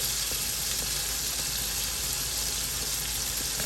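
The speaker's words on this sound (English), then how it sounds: "We're gonna start saute our other veggies up that we prepared. So in goes our onion." Onion sautéing in a pan for pigeon peas rice, a steady, dense hiss of frying that stays even and close throughout, with no talking over it.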